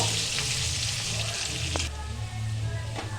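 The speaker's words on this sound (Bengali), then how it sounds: "আলুটাকে আমি ডুমু ডুমু করে কেটে রেখেছিলাম, সেটা আমি ভাজতে দিয়ে দিলাম।" Diced potatoes frying in a pan for a cabbage and fish-head curry, a steady close sizzle with a low hum underneath and faint stirring scrapes.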